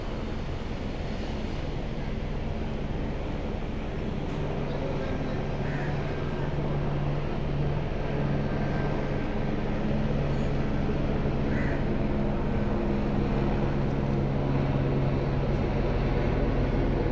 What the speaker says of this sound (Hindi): ये ज़मान पार्क का चक्कर लगा रहा है हेलीकॉप्टर।